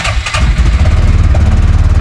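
A Kymco UXV 450i utility vehicle engine catches and settles into a steady, close, loud low idle with a regular throbbing pulse throughout, no voices present.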